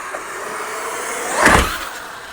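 A Traxxas X-Maxx RC monster truck fitted with a wider M2C kit runs through a bash session, its steady motor whine building to a louder burst near the middle before easing off, with no talk.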